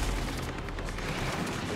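Pistol gunfire in a video game, a dense run of rapid shots and cracks filling the mix, loud and continuous with no clear gaps and no talking.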